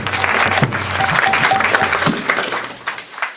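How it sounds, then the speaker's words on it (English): Audience at a kirtan gathering claps in a warm, sustained round of applause, dense and close at first, then thinning and tapering off toward the end. "Let's give him a big round of applause."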